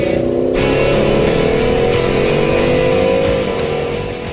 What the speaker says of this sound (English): Jab the throttle from a stop, and the car hesitates, then lurches forward